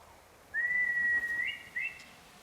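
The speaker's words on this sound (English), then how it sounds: "Still got that good whistle." A character whistles in the video game Ghost of Yotei: one long, steady clear note, then a short pair of higher rising notes, close and distinct against quiet ambience.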